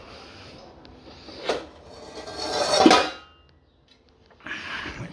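A pan is taken out in a home kitchen: metallic clatter and scraping build to a loud rattle, then a pause of near silence and a final shuffling rub.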